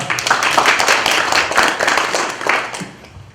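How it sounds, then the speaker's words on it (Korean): Audience applause at an appointment-certificate ceremony of an anti-corruption citizens' association in Gimpo, heard as dense, loud clapping that holds steady for about three seconds before thinning out at the end. "큰 박수 부탁드리겠습니다."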